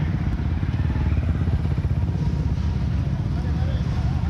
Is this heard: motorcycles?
yes